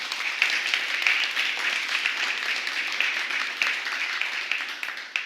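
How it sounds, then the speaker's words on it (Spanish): A church congregation applauds during a sermon, many hands clapping in a fairly dense, moderately distant burst that holds steady for several seconds and then begins to thin toward the end. "¿Alguien quiere aplaudir?"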